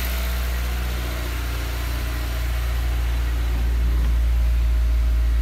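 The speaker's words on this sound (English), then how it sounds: "Motor's a little cold, so it still needs time to for the idle to come down." A cold Honda S2000 engine idles steadily with a big bore throttle body fitted, a continuous low rumble close to the mic that stays even throughout, with no talk.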